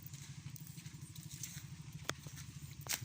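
A brown horse on a farm shuffles and steps with quick, repeated hoof clops, fairly faint and close, with a few sharper knocks near the end.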